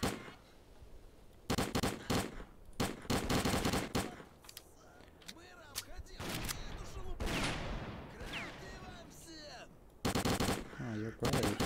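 Automatic weapon gunfire in the video game S.T.A.L.K.E.R.: Clear Sky, loud rapid bursts and single shots in several clusters with brief pauses, while a voice talks between volleys.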